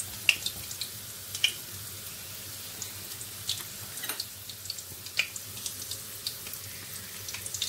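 Running water splashes steadily over hands being washed at a kitchen sink while making puff puff, a soft continuous trickle with a few sharper splashes throughout, no talking.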